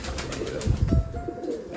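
Domestic pigeons in a loft on a rainy day give a brief, close, throaty coo rising out of a soft background.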